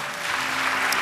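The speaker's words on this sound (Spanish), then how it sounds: "Denle un aplauso al Señor" Brief applause from a church congregation, a steady wash of clapping hands filling the space without a break.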